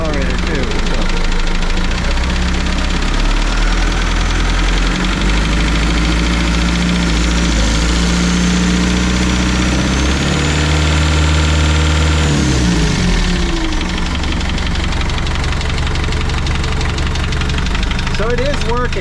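An Austin-Healey Sprite project car with a rusty body idles after its first startup, the engine running in a loud, steady, slightly knocking rumble close by that carries on throughout.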